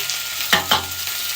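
Garlic, ginger and chili drop into hot oil for momos, giving a steady loud sizzle with two sharp stirring or tossing bursts in the middle, close up.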